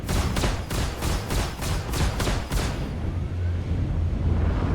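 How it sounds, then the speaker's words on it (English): The main gun of a P-52 Merlin in the video game Star Citizen fires a rapid, evenly spaced volley of about eight loud shots, then stops, leaving a low engine hum. "Let's see what the main gun sounds like."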